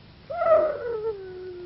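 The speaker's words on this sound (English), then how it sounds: "Are you afraid of the wolves?" A single wolf howl rises, then slides down in pitch and trails off over about a second, fairly close and clear against quiet night air, with no talking.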